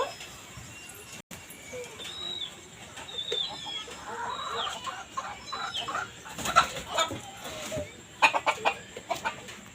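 Free-ranging chickens and a rooster being chased, clucking and squawking close by, with louder flurries of alarmed calls near the end amid rustling movement.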